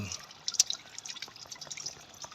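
Liquid drips and trickles near the water pump of a Benelli BN600i motorcycle during a coolant flush, an irregular patter of small close drops with one brighter splash.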